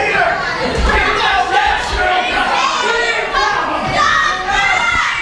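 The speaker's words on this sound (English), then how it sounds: "The crowd actually telling Peter Labrie to go in the ring." A wrestling crowd at a championship match shouts and chants continuously to push Peter Labrie into the ring, a loud, dense wall of overlapping voices throughout.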